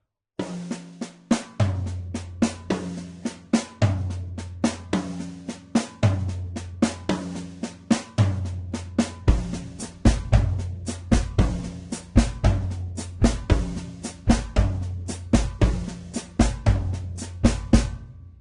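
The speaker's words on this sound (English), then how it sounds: "Now, what I want to do is add the first tom on the first beat." A samba batucada groove on a drum set builds in a steady repeating pattern, a first tom joining on the first beat with punchy low thumps under bright cymbal and snare hits, loud and close with no talk.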